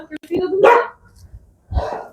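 A dog gives two short barks, about a second apart, close by in a village on a windy day, with faint wind and background noise between them.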